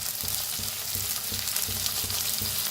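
Native small tomatoes roasting in a pan for spicy brinjal bharit give a steady sizzle, broken by regular soft scraping thumps of a spatula about every third of a second, close and continuous with no talking.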